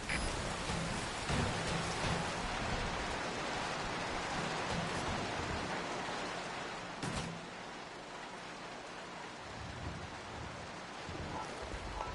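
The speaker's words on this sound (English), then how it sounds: "That rain just won't let up." Steady heavy rain pours in Metal Gear Solid V, a dense continuous hiss with a brief louder crack partway through and no talk.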